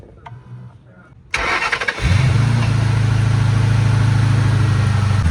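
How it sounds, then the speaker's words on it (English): A V8 Ford Mustang with no battery fitted cranks briefly and fires up on a Gooloo A7 jump starter, then settles into a loud, steady, close idle after a quiet lead-in of handling noise. "this thing is definitely enough to jumpstart a whole V8 Mustang without any battery in there"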